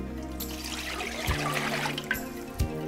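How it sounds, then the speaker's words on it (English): Water pours and trickles into the glass bowl of a Fagor halogen oven during cleaning, a steady splashing stream with a few louder knocks of the bowl. "Add approximately 2 cups of water."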